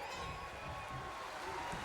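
A virtual arena crowd in the wrestling game WWE 2K25 roars and cheers in a steady, broad wash of noise, with a commentator's voice talking faintly over it.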